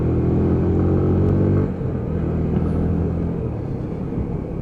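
A Lexmoto ZSB 125cc motorcycle chugs at low revs through a roundabout in third gear, its loud, close engine drone dropping abruptly about halfway through and settling into a lower, rougher rumble.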